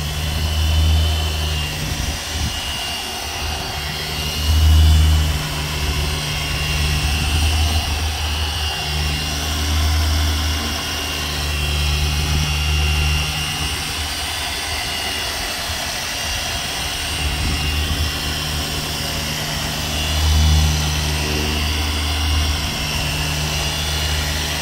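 A HONE HNPR615B 15mm dual action polisher runs while pressed down hard, giving a loud, steady, droning motor whine that holds for the whole stretch with slight swells in intensity.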